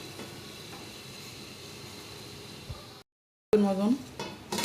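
A lid set down onto a pot of steaming Ashadhi Ekadashi modaks made from bhagar and sabudana, following a low kitchen hum, a short gap and then a clattery metal knock with a faint ring.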